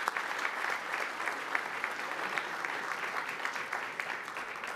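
An audience at an insurance industry awards ceremony applauds a winner, giving a steady, fairly distant round of clapping throughout.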